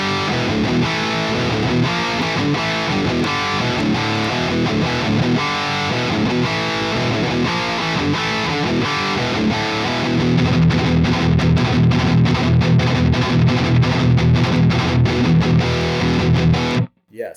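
A distorted electric guitar plays through a Bogren Digital amp simulation of an 800-style head with a pedal engaged, chugging riffs and thick sustained chords, loud and continuous, alone without talk.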